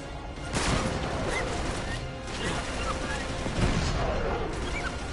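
Heavy video-game gunfire from Uncharted 3, a dense sustained barrage of shots and crashes that keeps going throughout, loud and continuous, with people talking over parts of it.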